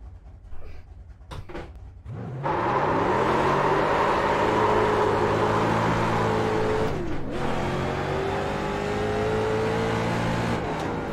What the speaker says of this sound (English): Gotta admit, I do like the engine sound on this though.